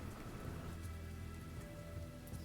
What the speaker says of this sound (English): I hope you like the background noise of rain and nice music.